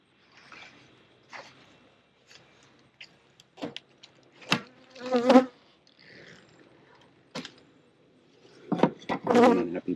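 A honeybee buzzing during a fall hive inspection, in intermittent close bursts that swell and fade as it darts near, louder passes near the middle and end, with quiet gaps between.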